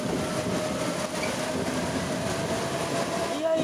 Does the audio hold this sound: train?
yes